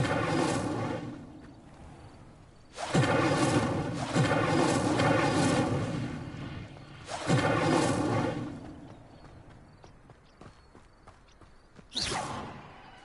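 Incendio fire spells are cast in a video game, three separate loud, fiery whooshing bursts with crackling tails, spaced several seconds apart with quieter gaps between.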